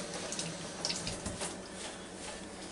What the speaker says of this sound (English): we'll wash this potato off again